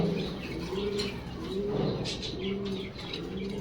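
Racer pigeons coo in repeated soft, rolling calls, close and clear, several overlapping phrases with faint chirps and rustling around them.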